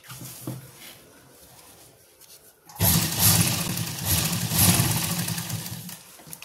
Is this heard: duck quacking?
no